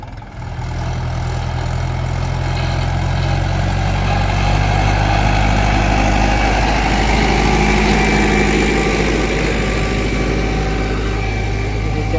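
A tractor engine idles loudly up close, a steady low diesel chugging rumble that runs unbroken the whole time with no talking.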